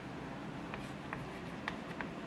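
Marker or chalk strokes scratch across a board as chemistry notation is written, a few short soft scrapes over a steady low room hum.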